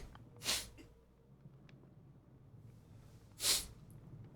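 Two sharp sneezes from one person, one near the start and another about three seconds later, close up with quiet room tone between them.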